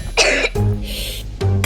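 A child with flu coughs in a few harsh, close bursts with throat clearing between them, loud and alone without speech.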